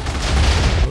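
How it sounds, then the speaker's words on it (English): Rumbling, noisy blast from a redstone-triggered explosion in the Minecraft video game, a loud sustained roar that fills the whole short moment with no speech over it. "Hell of an explosion."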